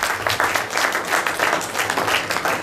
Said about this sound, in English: This is another great round of applause.